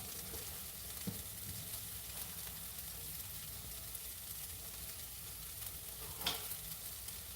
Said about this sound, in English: the onions have been cooking for a little while